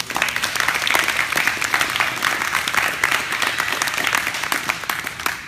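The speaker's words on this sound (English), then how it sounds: "So big round of applause." At a jiu-jitsu academy farewell, a group applauds departing students, with brisk, fairly close clapping from a modest crowd, individual claps standing out within a steady, lively patter.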